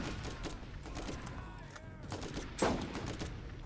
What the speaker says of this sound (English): I can try out my new sniper